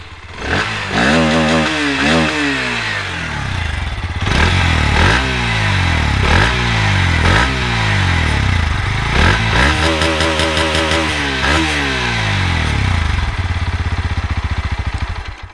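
A 2024 Bajaj Pulsar NS 160 motorcycle runs close by, with its exhaust note blipping through repeated sharp revs that rise and fall over a rough idle.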